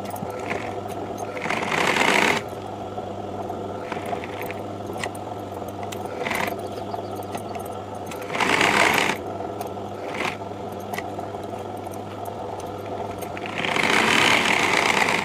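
Sewing machine stitching the lining of a blouse, heard as short loud bursts of whirring stitching separated by quieter pauses, close up and with no talk.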